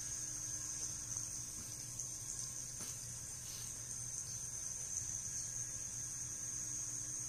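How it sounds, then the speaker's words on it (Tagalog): Water spraying steadily from sprinklers at the base of orchard trees, a faint, continuous hiss with no pauses and no voices. "Bawat puno, may lumalabas na tubig sa sprinkler."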